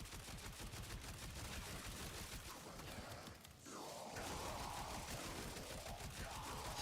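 Rapid gunfire from the Stug weapon in the video game Warframe, a dense stream of shots over a busy game soundscape, with a brief dip midway before the barrage resumes, faint overall.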